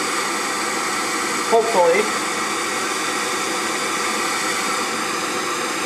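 A torch heats the top of a spoon to red with a steady, close, hissing roar that holds evenly throughout, with a brief murmured word partway in.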